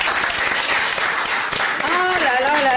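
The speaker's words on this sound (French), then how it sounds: "On peut l'applaudir, applaudissez-la." Audience applause during a live televised tropical night show, a brief dense patter of clapping under an excited presenter's voice.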